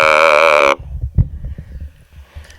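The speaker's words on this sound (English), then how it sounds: "That's the sound of the talkbox." A talk box driven by a saw wave from the Electro Spit app: a loud, buzzy sustained tone that cuts off abruptly, followed by quieter low mouth-shaped murmurs and clicks.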